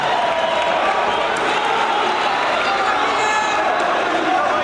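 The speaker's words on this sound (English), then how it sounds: "You can probably hear the crowd noise around me." A crowd at a wrestling dual meet fills the space with a constant, dense roar of voices and murmur, loud and continuous with no breaks, and a voice may be talking over it.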